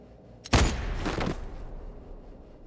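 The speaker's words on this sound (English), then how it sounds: "I just heard a gunshot." A single sharp gunshot cracks out in the video game Honkai: Star Rail, followed by a brief rumbling tail that fades into quiet.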